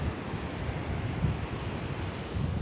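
Surf and wind at Puring Beach in Pacitan blend into a steady, fairly faint broadband rush with a low rumble of breaking waves, and no one speaks.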